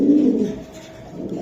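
Hammer silver Giribaz pigeons of very large size cooing at close range, a low throaty coo at the start fading into softer murmuring.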